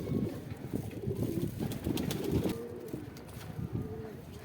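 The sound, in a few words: pigeon cooing, black high-flying pigeon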